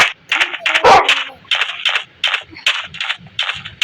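A dog barks in a rapid series of short, sharp yaps, evenly spaced and fairly close, with one louder burst near the start.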